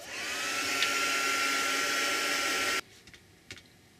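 A hair dryer drying a piece of mail art whirs steadily with a rising whine for almost three seconds and then cuts off abruptly, leaving a few faint clicks and taps afterward.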